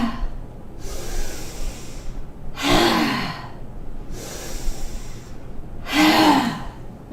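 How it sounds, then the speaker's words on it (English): Two forceful breathy 'ha' exhalations with the tongue out during yoga breathing practice, each a loud broad rush of air standing out against quieter breaths in between, with no talking. "exhaling out with a ha sound and a tongue out"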